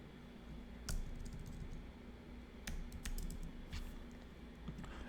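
Keys of a computer keyboard tapped in a few sparse, quick bursts of clicks over a quiet, faint background hum, with no talking.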